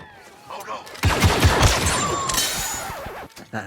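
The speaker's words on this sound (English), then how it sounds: "I fire my gun here to make sure my headset has the right loudness." Rapid blaster gunfire in the Star Wars Battlefront 2 game mode Ewok Hunt bursts in after a quieter start, a dense, loud string of shots that fades slightly toward the end, with voices mixed in.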